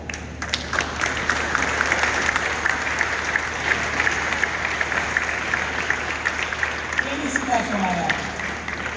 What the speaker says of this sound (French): Je vous demande à tous de vous mettre debout pour saluer, pour applaudir